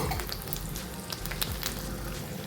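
Cabbage-leaf spring rolls stuffed with paneer frying in oil in a pan, giving a close, steady crackling sizzle with scattered pops and no talking.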